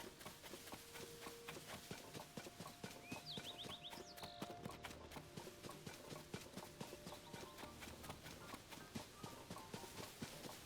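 Horse hooves clip-clop in a steady, rapid rhythm in The Legend of Zelda: Tears of the Kingdom, fairly faint, with a brief whinny-like sound and quiet game music underneath.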